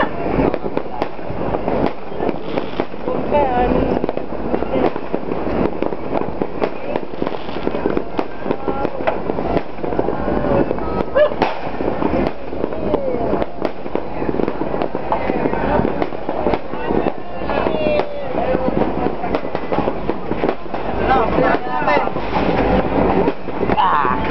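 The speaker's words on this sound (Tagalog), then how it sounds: "Ang dami nilang paputok." Dense, continuous crackle and bangs of New Year's fireworks and firecrackers going off nonstop beside a bonfire, with people talking underneath.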